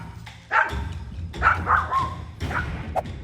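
A small dog barks in a few sharp bursts, picked up by a doorbell camera outdoors, with steady low background rumble between the yaps.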